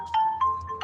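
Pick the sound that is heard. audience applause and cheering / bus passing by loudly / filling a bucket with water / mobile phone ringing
mobile phone ringing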